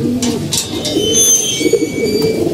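Several female pigeons in a loft coo in soft, rolling phrases close by, with a few brief clicks and rustles between the calls.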